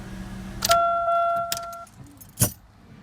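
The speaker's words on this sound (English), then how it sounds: "Go ahead and turn the car off." A 1997-2005 Chevy Malibu being switched off: a soft key click, a steady electronic chime lasting about a second, then a single dull thump near the end, close by with no talking.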